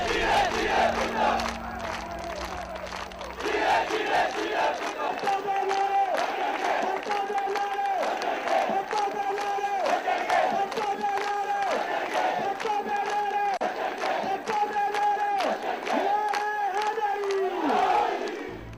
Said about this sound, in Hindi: चारों तरफ जियो जियो जियो भुट्टो बेनजीर के नारे गूंज रहे थे।